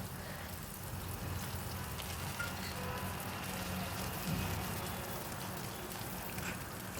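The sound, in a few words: grated ginger frying in a pan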